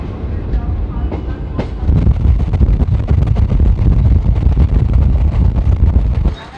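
Train standing at platform 3 of Kolkata station, the special service to Digha: close, loud rumbling and rattling of railcars with sharp clanks and clicks, plus gusts of wind noise against the microphone.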